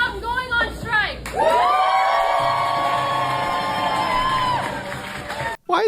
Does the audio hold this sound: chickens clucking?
no